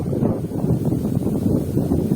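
Steady wind by the Southern Bug river rumbles and buffets the microphone, a continuous low roar with no voices.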